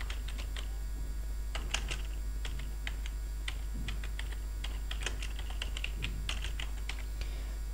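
Someone types a search query on a computer keyboard, giving quick, light, irregular key clicks in short bursts over a low constant hum, with no talking.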